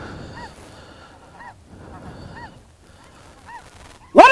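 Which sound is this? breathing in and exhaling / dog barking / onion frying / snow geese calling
snow geese calling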